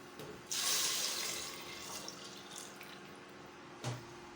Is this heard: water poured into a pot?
yes